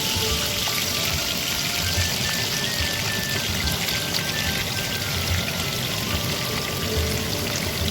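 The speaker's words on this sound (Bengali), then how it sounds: "এবার আমি এঁচোড়গুলো ফ্রাই করে নেব" Jackfruit pieces sizzle steadily in hot oil in a pan, a dense continuous crackle and hiss that holds at an even level throughout with no voices.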